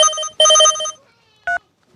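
A phone rings in short harmonic bursts, two long trilling rings followed by a brief chirp after a pause, loud and close with no voices over it, in a Bhojpuri comedy scene.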